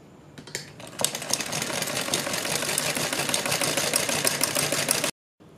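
A sewing machine stitches piping onto the hem of a salwar, a close, continuous mechanical whir with rapid rhythmic clatter that runs steadily for about four seconds after a few starting taps, then stops abruptly.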